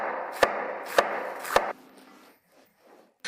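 Three crisp, evenly spaced knife chops through red cabbage on a cutting board ring out close and clear, each with a sharp crunch, before the cutting stops and only faint handling noise remains.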